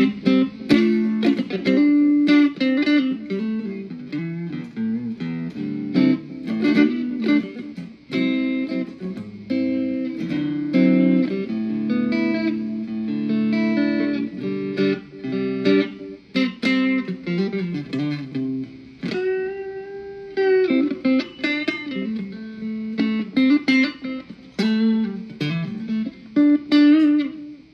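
A Korean-made Future Stratocaster-style electric guitar with fresh strings plays a clean tone, with chords and single-note lines ringing alone, close and loud, in uneven phrases with brief gaps.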